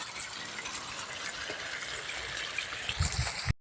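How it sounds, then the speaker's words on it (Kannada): Water runs steadily from a hose onto coconut and areca saplings in hot sun, a continuous gurgling trickle with a few low splashes near the end, heard alone and close. "ತೆಂಗಿನ ಸಸಿ ನೀರು ಬಿಡ್ತಿದ್ದೀನಿ"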